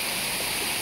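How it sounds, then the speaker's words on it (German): A stream and waterfall swollen after a night of rain give a steady, bright, hissing rush of water, fairly close and continuous, with no voices. "Der Wasserfall, der ganze Bach hier ist mächtig angeschwollen."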